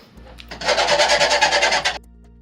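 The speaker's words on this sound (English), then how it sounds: "I've been fiberglassing, sanding fiberglass." Fiberglass on a boat is being sanded in one rapid, rhythmic burst of scratchy rubbing strokes that lasts about a second and a half, close and fairly loud, set against a low steady hum.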